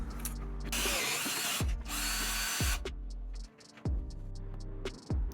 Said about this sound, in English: So I've widened the hole to about 9mm by walking an 8mm drill bit around